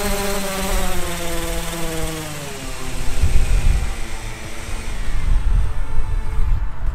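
The motors of a DJI Mavic Air 2 drone whine with a high buzzing tone near water, the pitch dropping as it descends while bursts of wind-like rumble and splashing noise build up underneath.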